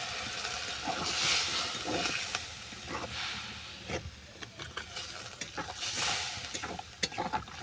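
Prawn and taro curry with tomato and chilli powder being stirred in a pan over heat, a steady sizzle and hiss with repeated scraping strokes of the spoon throughout, close and moderately loud, no voices.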